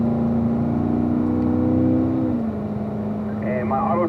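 A car on a race track winds up its engine while accelerating out of a turn onto a straightaway, a steady loud drone with harmonics that shift in pitch partway through and continuous engine noise throughout.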